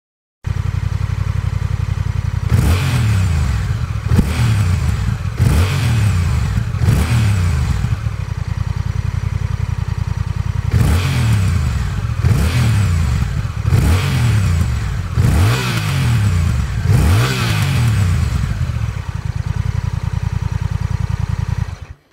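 A Honda Rebel 1100 motorcycle engine idles with a deep throb, then revs sharply several times in quick bursts, loud and close, with no talking.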